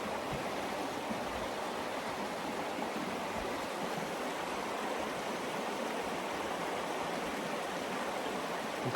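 The Big Iron River in the Porcupine Mountains of Michigan's Upper Peninsula flows steadily over a remote stretch, a close, continuous broadband rush of water with no voices.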